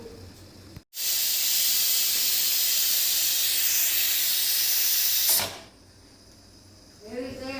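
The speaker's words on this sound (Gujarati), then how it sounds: "આ બીજી સીટી થઈ ગઈ છે" A pressure cooker cooking cabbage and potato curry lets out a loud, sustained steam whistle for about four and a half seconds, cutting off sharply into quiet hiss.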